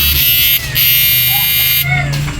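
The cooling blower fan of an old-model inverter runs steadily during repair, a loud continuous whirring buzz with a high whine, briefly dipping in intensity.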